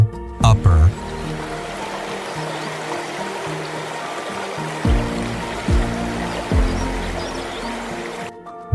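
Water of the Krimml waterfall in Austria, fed by the glacial Krimmler Ache and dropping 380 meters over three tiers, rushes in a steady broadband roar with a few low thumps and tonal bursts over it.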